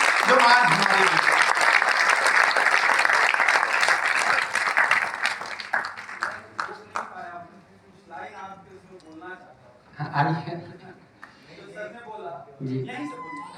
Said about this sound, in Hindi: तो उस संत के लिए तालियां बजा दीजिए